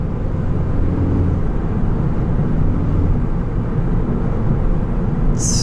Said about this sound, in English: I'm not sure if you guys can hear that turbo, but man, you can really hear the blow-off valve